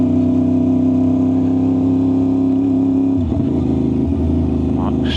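An Aprilia RS660 motorcycle engine droning steadily while riding, then dropping in pitch partway through as the rider short shifts, close and loud.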